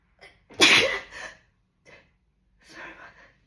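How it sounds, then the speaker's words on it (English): A single close sneeze bursts out after a short breathy intake, followed by a few soft breaths and a quiet exhale. "I think I'm gonna sneeze again."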